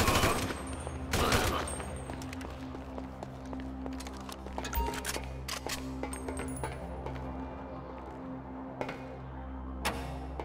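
Gunfire in the Grand Theft Auto V video game, with sharp single shots and short bursts cracking over a constant low rumble, spaced irregularly through the stretch, moderately loud and without voices.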